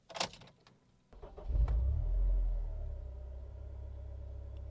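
A Honda Civic Type R FD2 engine cranks and starts after a few clicks, catching with a low rumble and settling into a steady, smooth idle close by.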